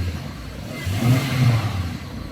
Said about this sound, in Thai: เดี๋ยวผมลองเร่งให้ดูนะ